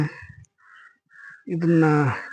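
A couple of brief bird calls sound faintly in a quiet background at the Mallikarjuna temple in Mallapur, Bagalkot taluk, Karnataka, followed by a person speaking.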